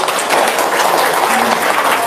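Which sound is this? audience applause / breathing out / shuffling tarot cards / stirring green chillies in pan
audience applause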